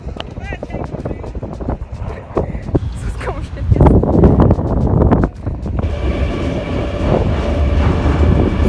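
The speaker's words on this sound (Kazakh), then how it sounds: "Енді қазір метромен барамыз." A metro train in Antalya rumbles and rattles along the track, with its steady loud ride noise and some clatter as people talk nearby.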